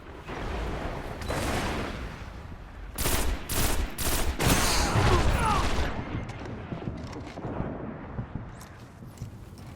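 Sniper rifle fire in Destiny gameplay: a run of sharp, loud gunshot cracks clusters mid-clip over a continuous game soundscape, then fades into quieter ambient action.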